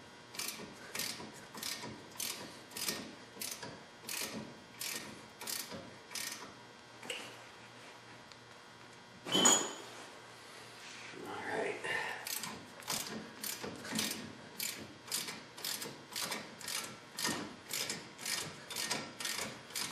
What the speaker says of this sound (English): Fortunately, I was able to kind of thread it in there with my ratchet wrench.